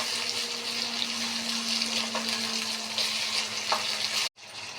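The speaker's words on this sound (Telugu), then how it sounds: "ఉల్లిపాయ పచ్చిమిరకాయలు వేపాను, బాగా కలర్ చేంజ్ వచ్చేదాకా వేపుకొని అల్లం వెల్లుల్లిపాయ పేస్ట్ వేసుకున్నాను" Onions and green chilies frying in a pan with ginger-garlic paste give a steady, close sizzle with faint stirring, then cut off abruptly near the end.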